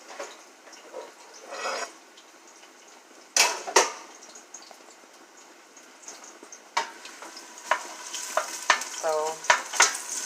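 Vegetables and garlic hitting hot half coconut, half extra virgin olive oil in a pan, bursts of crackling sizzle separated by quieter stretches, with clinks of utensils and a short squeak near the end.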